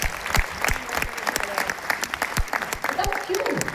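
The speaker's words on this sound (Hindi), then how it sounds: "ताली बजा लीजिए।" Audience applause breaks out during a motivational speech at a ModiCare event in Jaipur, a dense, steady clapping that fills the hall for several seconds, with voices mixed into it.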